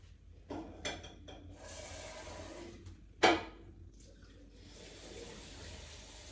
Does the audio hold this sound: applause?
no